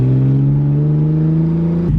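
Lexus IS300 with its exhaust cut off, heard from inside while driving: a loud, steady engine drone holding a constant pitch, then dropping away sharply near the end as the revs fall.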